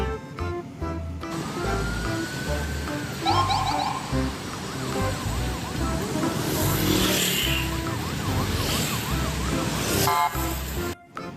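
A toy police car's wailing siren repeats steadily alongside electronic beeps and playful toy sound effects, loud and close, with no talking.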